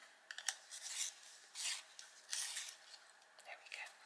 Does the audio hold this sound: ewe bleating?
no